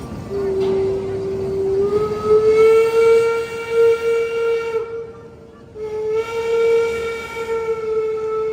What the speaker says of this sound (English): And look at that train passing by as well.